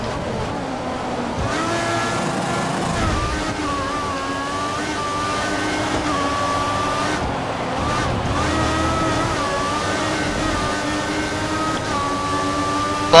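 Formula 1 car racing in F1 2014 at Spain's circuit: a loud, continuous high-revving engine whine that rises and falls through gear changes, with brief dips while braking toward a hairpin and rival cars close behind.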